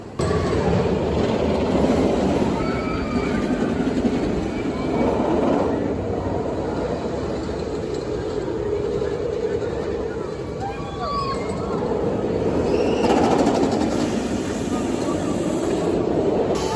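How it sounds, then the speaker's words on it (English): Jersey Devil Coaster, a 2021 RMC single-rail roller coaster at Six Flags Great Adventure, rumbles steadily for the whole stretch, its loud track roar rising and falling with faint distant screams and crowd noise mixed in. "So let's go ride Jersey Devil Coaster"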